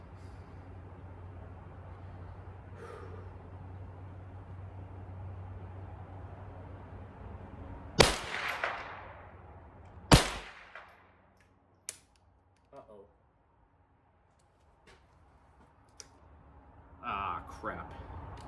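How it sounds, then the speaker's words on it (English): A Henry .22 LR rifle fires from a bench rest, with two sharp, distinct cracks and a few fainter clicks and knocks spread out over a quiet low hum. "I'm gonna take 5 shots again in the upper right target over there"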